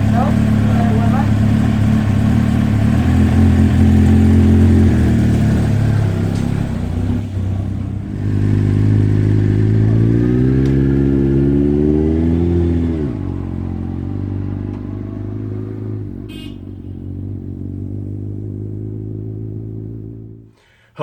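A Suzuki GSXR750 motorcycle engine warms up with a loud, close idle, then climbs through several revs and settles back to a steady idle, with a few mechanical clatters and an abrupt stop at the end.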